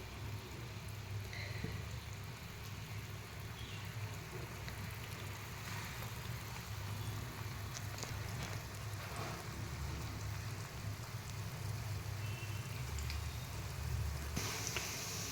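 Balls fry in a pan of oil over a raised flame, giving a soft, even, rain-like hiss that holds steady throughout with a few faint pops.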